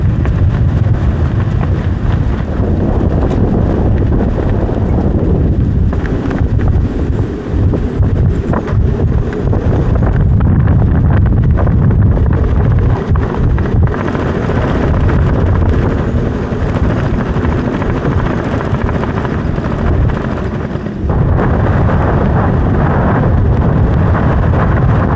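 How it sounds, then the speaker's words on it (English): Strong wind buffets the microphone aboard a boat pushing through a big patch of winter ice, a loud, rough, continuous rumble with gusting surges and low grinding underneath, no voices. "We've broken through a big patch of ice here. It's so windy."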